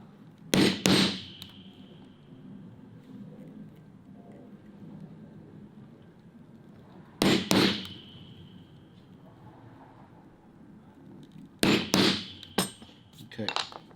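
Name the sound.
hammering a hole punch through leather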